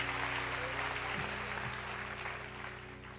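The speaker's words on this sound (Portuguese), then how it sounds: "Dê um forte aplauso a Jesus para que o inferno ouça" A church congregation applauding during a sermon, a dense, sustained wash of clapping throughout that fades slightly toward the end, with a low steady hum underneath.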